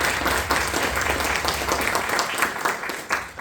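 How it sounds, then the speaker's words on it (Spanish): Audience applause at the launch of Elisa Rojas's first novel, a full steady round of clapping from a room of listeners, moderately loud and without talk. "Un gran aplauso para Elisa Rojas."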